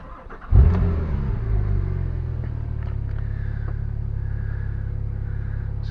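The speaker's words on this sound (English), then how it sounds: "just start the car up actually" A Porsche 997 Turbo engine cranks and catches with a sudden loud burst, then settles into a steady, even idle rumble that holds close and unbroken for several seconds.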